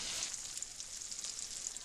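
Sliced tofu pan-fries in oil in a frying pan, a soft, continuous crackling sizzle with fine irregular pops, faint and steady throughout.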